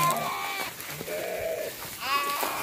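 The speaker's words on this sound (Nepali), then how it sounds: "लु है भेडा सन्चारी छ" Sheep on a farm bleat in short, wavering calls, with two or three bleats close by over faint background noise, and no talking.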